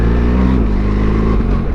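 A BMW R 1300 GS Adventure motorcycle with an automated shift system runs nearby with a loud, steady engine drone and small shifts in pitch as the revs change.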